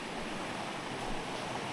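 The Little River in the Great Smoky Mountains rushes in a steady, broadband roar of flowing water. The sound is close and continuous, with no voices over it.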